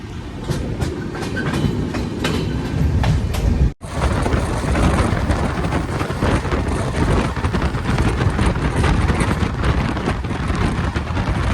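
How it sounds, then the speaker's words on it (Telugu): The Visakha Express runs on after leaving Ponduru station. A loud, continuous rumble with clickety-clack wheel beats fills the whole stretch from close inside the train, broken by one very brief dropout, with no voices. "ట్రైన్ పొందూరు డిపార్ట్ అయిపోయిందండి"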